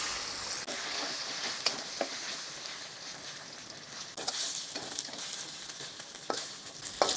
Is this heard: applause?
no